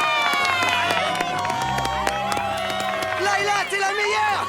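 Audience at a Winx Club Café Concert performance cheers loudly and claps for the band, with excited high-pitched shouts and whoops over a crowd roar, steady throughout.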